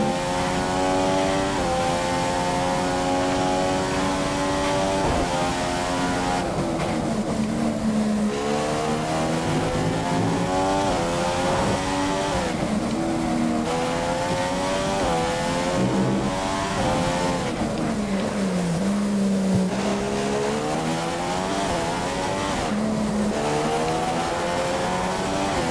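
Formula 1 race car engine in F1 2015 at the Australian round, loud high-pitched whine rising and falling through gear changes as the car accelerates back up to racing speed, continuous and close with no talk.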